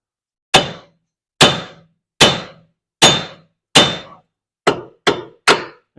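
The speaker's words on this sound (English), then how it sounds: "I'm just going to lightly give a little taparooski here." A hammer taps repeatedly on the outer tie rod of a 2000 Buick LeSabre, eight sharp metallic whacks, close and loud, spaced roughly evenly at first and then quicker toward the end, each ringing briefly before fading into silence.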